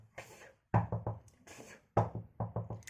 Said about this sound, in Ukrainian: По дерев'яному постукав